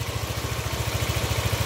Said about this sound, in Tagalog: Ngayon working na ang pump at gumagana na rin ang aking motor.